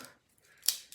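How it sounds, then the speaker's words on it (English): A single sharp snip of scissors cutting through a low-hanging plant branch during pruning, brief and fairly close, preceded by soft rustling. "I'm gonna just cut a good branch off. Let's see if these scissors do it."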